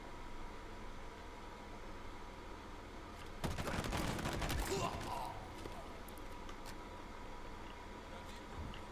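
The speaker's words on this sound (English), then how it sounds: "The sound of the gunfire in this room sounds fantastic." Rapid bursts of gunfire in Halo Infinite erupt midway, loud and dense for about a second and a half, then fade back into a steady background hiss.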